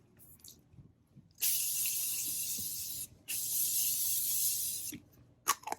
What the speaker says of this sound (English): Now at this point, I would grab some sort of spray.